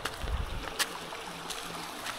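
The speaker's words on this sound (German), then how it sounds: "Hier ist ein kleiner Bach." A small brook near a little footbridge on a pilgrims' trail burbles softly, a steady low trickle with faint splashes and light outdoor wind, no voices over it.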